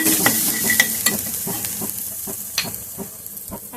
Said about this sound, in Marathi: थोडं लाल तिखट टाकूया जास्त नाही मिक्स करायचं